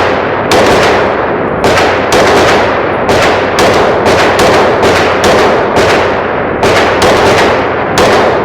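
Rapid pistol fire from a Canik Meta SF shooting 115 grain rounds at a range, about a dozen loud, sharp reports in quick irregular bursts, close to the microphone with no talking.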